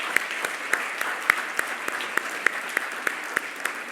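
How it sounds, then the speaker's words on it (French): Audience at a gala applauding, a dense, steady wash of many hands clapping in a large room, sustained at an even level throughout with a few sharper individual claps standing out. "Oui, on peut leur donner une bonne main d'applaudissement."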